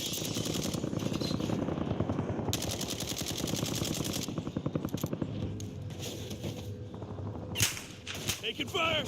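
Automatic weapons rattle in Call of Duty: Warzone, with long loud bursts of rapid fire at first that give way to scattered shots and short volleys.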